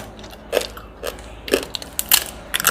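Crisp, crackly bites and crunches into a fried field crab, a series of sharp close-up crunches spaced irregularly with quiet chewing between.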